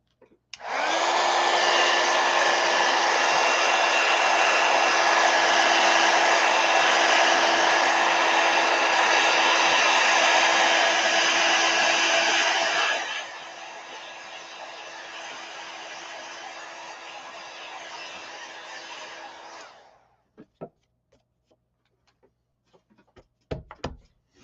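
A hair dryer runs steadily while drying paint on a drawing of gnomes, a loud even whir with a clear tone that drops to a lower setting partway through, then shuts off, followed by a few faint clicks and knocks.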